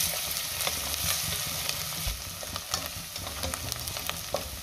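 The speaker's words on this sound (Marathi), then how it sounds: "आता आपल्याला त्यात टेचलेलं आलं लसूण घालायचंय आणि पुन्हा 1 मिनिटभर चांगलं परतून घ्यायचंय" Chopped onion and crushed ginger and garlic sautéing in a pan, a soft continuous sizzle with intermittent spoon scrapes and light clicks, close but quiet, with no voices.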